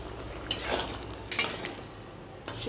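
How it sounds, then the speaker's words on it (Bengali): A lid set onto a cooking pot of simmering curry, a few quiet metallic clinks and scrapes against a low kitchen hum. "এবার এটা ঢেকে দেবো।"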